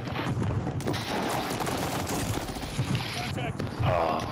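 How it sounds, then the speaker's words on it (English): Gunfire in the video game Warzone, rapid bursts and scattered shots crackling continuously under a player's voice talking over the action. "I'm under heavy fire."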